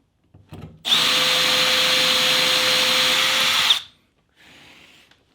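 A heat gun blows hot air while working a hole for a mirror bracket on a Datsun 240Z, a loud steady whooshing roar lasting about three seconds, then cutting off, followed by a quieter brief burst.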